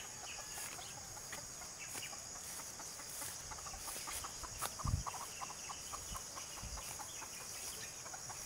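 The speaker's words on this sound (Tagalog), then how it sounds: "Ayan, may manok pa." A chicken clucks a few times in the distance in a forest over steady insect buzzing and outdoor ambience, with a brief low thump near the middle.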